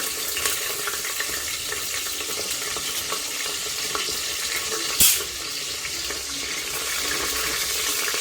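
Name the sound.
green chillies sautéing in hot oil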